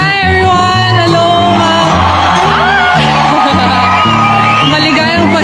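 A boxing arena crowd roars for a Filipino fighter, with loud, sustained whoops, shouts and cheers filling the space continuously and voices mixed throughout.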